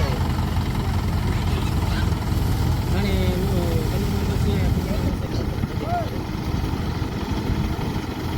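A new tractor's engine idles at a steady, low chug close by on a farm, running continuously while people talk over it.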